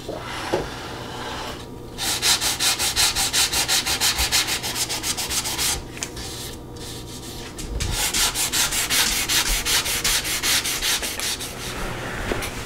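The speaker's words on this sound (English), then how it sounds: "We're just sanding down a little bit of rough edge that was left from the wood putty." Steady scratchy hand sanding on a wood trivet, smoothing rough dried wood putty, continuous back-and-forth rasping strokes up close, with a brief pause near the start and another midway.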